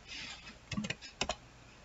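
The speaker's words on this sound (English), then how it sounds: "but instead I'm going to type in" Typing on a computer keyboard, a few scattered keystrokes in two small clusters, close and fairly quiet, over faint background hiss with no talk.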